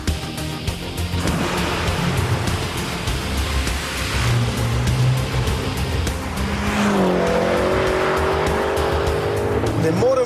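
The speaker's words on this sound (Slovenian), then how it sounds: "Ne morem verjeti, kako noro pospešuje ta avtomobil." A 2012 BMW M6 accelerates hard, its engine roaring loudly and continuously with a rising pitch sweep near the end, while a person talks over it throughout.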